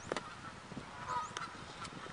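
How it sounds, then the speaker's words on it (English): Faint honking calls from a duck or goose outdoors, a few scattered honks at a distance against a low background hiss. "Oh no, that's just a duck"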